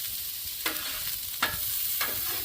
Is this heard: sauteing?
yes